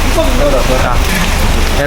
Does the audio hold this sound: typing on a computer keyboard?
no